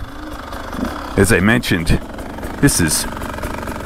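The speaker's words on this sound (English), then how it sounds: "this is just such a good running 300 engine" A Beta 300 Race Edition two-stroke dirt bike engine hums steadily under close speech, with a rider talking over it throughout.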